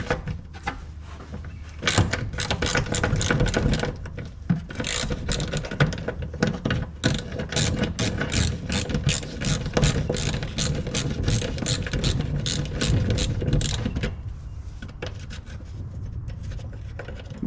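A ratchet wrench clicks rapidly and steadily on long bolts on an Allan Moffat barn-find car, close and loud, with several continuous runs of dense ratcheting before it eases off near the end.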